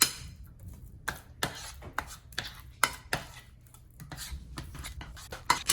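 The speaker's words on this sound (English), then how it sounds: "I'm gonna fold it all in, make sure you get it mixed up really nice and good." Sourdough starter is folded and mixed in a container, giving a series of sharp, irregular clacks and taps of a utensil against the vessel with soft sticky scraping between them, close up and with no talk.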